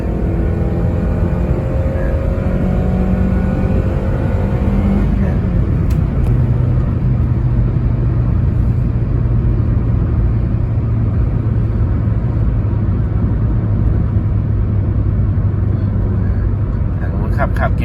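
A manual Toyota Yaris 1.2 fitted with a 1NZ engine drones steadily from inside the cabin while driving, its engine note shifting as it downshifts, with someone talking over the continuous road and engine rumble.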